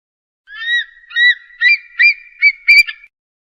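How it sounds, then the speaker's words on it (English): An eagle calls in six clear, high, whistling notes repeated at an even pace, the last one sharper, loud and close against a silent background. "Eagle."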